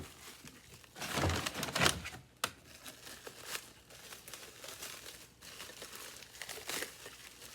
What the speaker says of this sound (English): let's see if we can get this unwrapped.